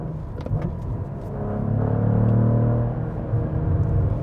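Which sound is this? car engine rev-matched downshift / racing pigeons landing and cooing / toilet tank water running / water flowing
car engine rev-matched downshift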